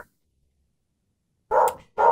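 Two loud, close dog barks ring out in quick succession outdoors after a stretch of silence.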